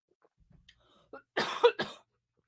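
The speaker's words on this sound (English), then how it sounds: "It's always when I start talking that I start coughing" A short burst of coughing, two or three close coughs in quick succession after near silence.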